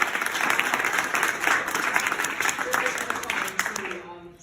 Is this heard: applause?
yes